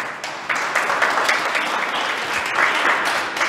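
Church congregation applauding, a steady dense burst of many hands clapping fairly close, swelling slightly in waves without speech.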